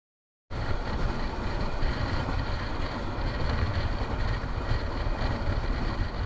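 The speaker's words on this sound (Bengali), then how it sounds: "খুবই দ্রুত গতিতে ছুটে চলে গেল মালবাহী ট্রেন" After a moment of silence, a freight train on a Bangladeshi line rushes past at speed close by, a loud, continuous roar with wind buffeting that holds to the end.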